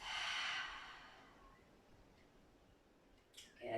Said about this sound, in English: Inhaling through your nose. And exhale through your mouth.